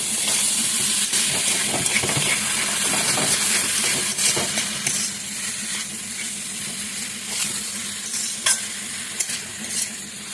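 Salted bamboo shoots frying dry in a pan, a continuous close sizzle and hiss with frequent stirring scrapes and clinks of a utensil, no voices.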